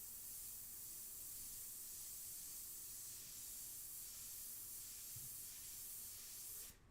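An airbrush sprays paint at regulated air pressure for portrait painting, giving a steady, faint hiss that runs unbroken for about seven seconds and cuts off at the end.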